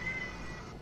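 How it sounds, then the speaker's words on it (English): A cat gives a single short meow, faint and thin, in a quiet indoor room, with no voices over it. "My cat."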